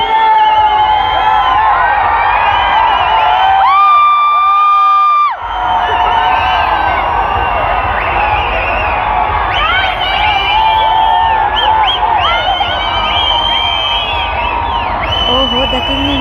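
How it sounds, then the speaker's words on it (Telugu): Stadium crowd at an IPL cricket match between RCB and GT at Chinnaswamy Stadium roars for Virat, a loud, sustained mass of cheering and chanting voices with whoops and rising shouts throughout, briefly dipping midway. "అందరూ విరాట్ అని ఫుల్ క్రేజ్గా అరుస్తున్నారు"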